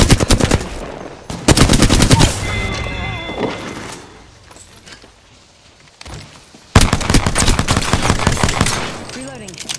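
Rapid automatic gunfire bursts loud and close in the video game Apex Legends arenas mode. A lull with scattered shots and game effects comes midway, then another sustained burst of fire, with voices talking in between.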